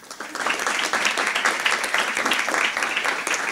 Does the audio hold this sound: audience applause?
yes